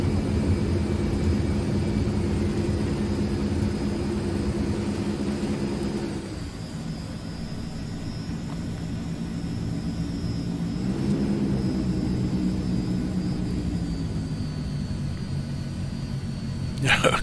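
Thrust reversers roaring on an AzurPoly C-160 after landing in Microsoft Flight Simulator, a loud sustained engine drone that dips and swells again, with a voice talking over it.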